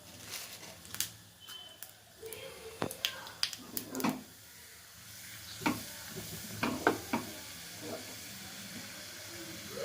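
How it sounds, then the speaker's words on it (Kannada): Cumin seeds and urad dal crackle in hot oil, with sharp, irregular pops and snaps over a faint hiss, bunched in bursts and then thinning out near the end. "ಆಯಿಲ್ ಹಾಕಾದ್ಮೇಲೆ ಸ್ವಲ್ಪ ಜೀರಿಗೆ ಚಟಪಟ ಅಂತ ಹಿಡಿದಾದ್ಮೇಲೆ"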